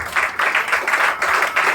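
A church congregation claps together through a Sunday service, steady bursts of applause that swell and dip in several waves, close and filling the room, with no talking over it.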